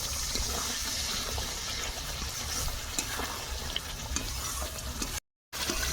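Water is poured into spice masala frying in a pan, giving a loud, continuous hiss and sizzle with soft stirring scrapes that cut off briefly near the end.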